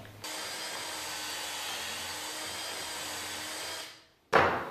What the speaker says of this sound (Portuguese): Já está regulada a profundidade, então é simplesmente fazer a furação.